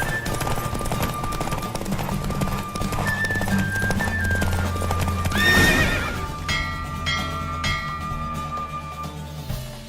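A horse gallops hard during a race in the video game The Witcher 3: a fast, steady clip-clop of hooves with a neigh partway through, set against game music and ambience.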